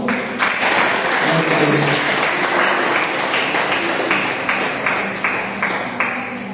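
A church congregation claps steadily for several seconds, a dense, sustained round of applause at moderate loudness with no talking.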